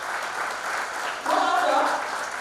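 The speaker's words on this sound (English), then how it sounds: "a loud round of applause" A convocation ceremony crowd applauds as the ceremonial lamp is lit, a steady roar of clapping with a faint voice rising midway.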